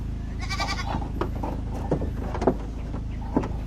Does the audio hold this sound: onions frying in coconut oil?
no